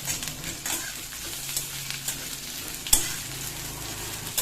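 Capsicum strips fry in a pan as a utensil stirs them, a continuous close sizzle punctuated by repeated scraping strokes and one sharper knock, with no one speaking.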